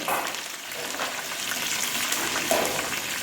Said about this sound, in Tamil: இதுக்கு தேவையான கருவேப்பிலை இந்த எண்ணெயில் போட்டு பொறிச்சு எடுத்துக்கிறேன்